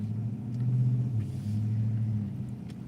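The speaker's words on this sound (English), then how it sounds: "I love driving in the snow." A car is heard from inside as it drives on a snowy road, giving a steady low engine rumble and tire drone with slight swells in revving and no voices.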